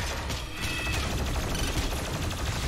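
Gunfire in the video game Doom Eternal, a dense, rapid burst of shots and mechanical clatter layered over game sound, moderately loud and continuous with no talking.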